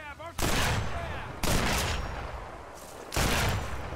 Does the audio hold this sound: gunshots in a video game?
yes